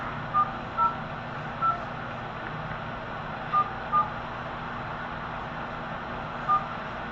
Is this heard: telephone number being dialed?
yes